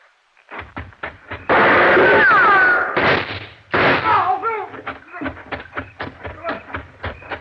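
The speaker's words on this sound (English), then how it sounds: "Good shot, Dollar." Gunshots in an old-time radio detective drama, sharp loud bursts mixed with excited dialogue, a cluster of blasts in the middle followed by scattered thumps and voices.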